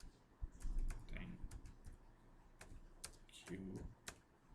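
Computer keyboard typing while a form template is filled in: irregular bursts of close key clicks, with a person talking quietly over them.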